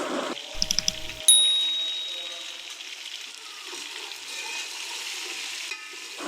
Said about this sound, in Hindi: अब हम लोगों ने इसको हरी मिर्चों के साथ बहुत ही अच्छे तरीके से इसकी भुनाई कर लेनी है